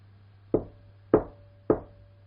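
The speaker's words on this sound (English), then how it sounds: "when there was a knock on the door." Three sharp knocks on a door, evenly spaced about half a second apart, each a crisp wooden rap with a short decay, heard alone over a faint steady hum.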